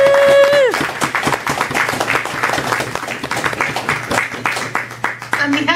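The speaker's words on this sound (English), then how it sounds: "Could everybody clap?" An audience at a poetry book launch breaks into applause, many hands clapping in a lively, fairly close patter that swells after a brief tone and carries on steadily, with some voices mixed in.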